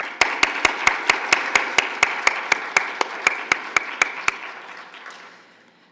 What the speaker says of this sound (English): let's give a big hand of applause for our undergraduates